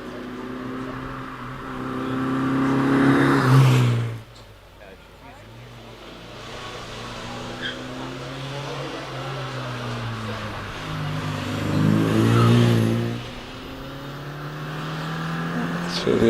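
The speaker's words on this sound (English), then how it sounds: "Through the S's end goes the midget as Robin Davidson makes his way up the hill in the MGTF 160" Race car engine climbing the Prescott hillclimb course during a Midland Championship event, droning steadily with two louder surges as it passes, under continuous commentary.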